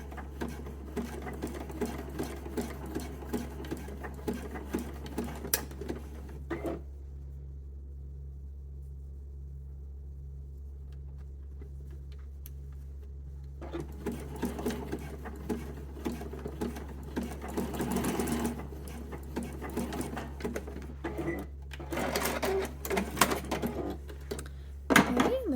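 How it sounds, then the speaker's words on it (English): A sewing machine stitches fabric bra straps in a row, its motor running in steady bursts of rapid mechanical clatter with a constant low hum and a short pause in the middle. "stitch right under that ring to hold it in place"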